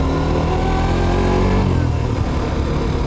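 A Suzuki GSX-R 125 ABS motorcycle engine drones steadily around 5000 rpm, holding a continuous mid-pitched tone with a slight rise before settling, close and constant throughout.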